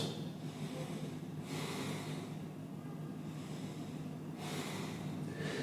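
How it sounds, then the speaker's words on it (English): Slow, audible breathing during a beginner's hatha yoga stretch in child's or puppy pose, soft airy inhales and exhales repeating in a steady rhythm, close and fairly quiet. "Take a couple more breaths."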